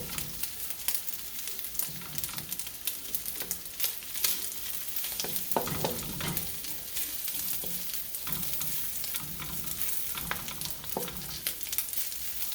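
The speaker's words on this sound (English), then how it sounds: "Give that a good stir." Turmeric fried rice with ham is stirred in a hot pan, making a dense crackling sizzle with repeated scraping and tossing strokes, close and fairly loud throughout, no voices.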